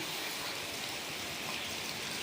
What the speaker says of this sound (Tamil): மழை விட்டாமல் பெஞ்சுன்னு இருக்குங்க